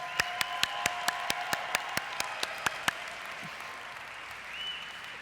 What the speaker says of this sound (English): So let's give him a strong applause.